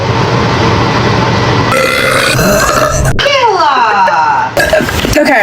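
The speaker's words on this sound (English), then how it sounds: "So I'm gonna burp." A long, loud, drawn-out burp rumbles close to the microphone, breaking into a throaty stretch with a sharp click near the middle and trailing off into another short belch at the end.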